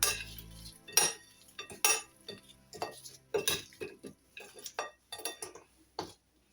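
Prawns being tossed and mixed in a bowl to coat them, with a series of clinks and scrapes of a utensil against the dish, close and irregular, about a dozen strokes with no talk.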